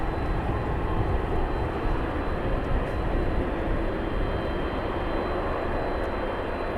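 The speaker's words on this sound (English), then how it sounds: "777 departs, AEROLOGIC taxis in." An AeroLogic Boeing 777 cargo jet at East Midlands Airport at night, a steady, heavy low roar of engines that holds at constant loudness throughout.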